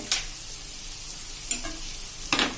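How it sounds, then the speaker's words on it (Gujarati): Dried red and green chillies sauté in hot oil for a Kathiyawadi dal tempering, giving a close, steady sizzle broken by a few sharp scrapes and clacks of the stirring spoon. "આ રીતે એકદમ સરસ આપણે 1 મિનિટ આ રીતે સાંતળી લેશું બધું અંદર."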